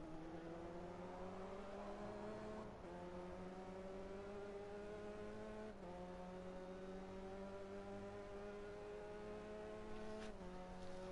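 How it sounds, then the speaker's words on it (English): A Renault Clio race car engine revs high and sustained, its pitch climbing then dropping briefly at repeated points as it hits the rev limiter, heard from a distance at low level. "You can hear the revs hitting the limiter."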